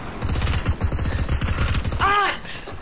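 A quick rattling burst of rapid gunfire from the Fortnite game, close and loud, ending in a short ringing tone.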